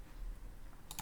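A single computer keyboard key press lands near the end of a quiet moment, a short crisp click against faint background hiss.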